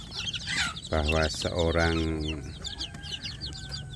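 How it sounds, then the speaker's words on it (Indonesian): Free-range village chicks and hens cluck and peep close by while feeding, with loud tonal clucks mid-clip, chirps scattered throughout and someone speaking briefly over them. "anak ayam kampungnya itu mau makan ya sedulur"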